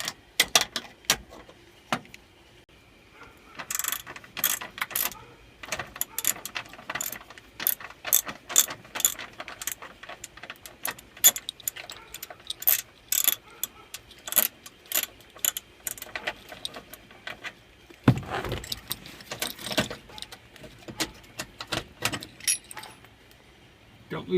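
A ratchet fitted with a 10mm socket removes starter relay bolts on a CUCV truck, giving many quick, sharp clicking bursts with pauses between and occasional metallic clinks, close and fairly loud.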